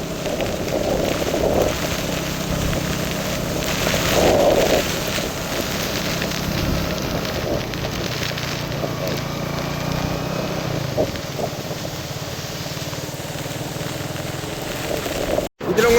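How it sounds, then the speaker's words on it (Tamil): Cyclone wind and heavy rain lash the coast at Mullaitivu, a loud, steady rushing roar of rain and gusting wind with a few brief thuds and a sharp knock near the end. "அவ்வளவுக்கு காற்று மழை உங்களை சத்தம் கேட்கும்னு நினைக்கிறேன்"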